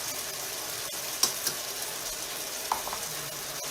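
Garlic cloves sizzling in a pan for chicken Marsala, a steady bright hiss of frying with a few sharp pops and light utensil clicks, close and continuous.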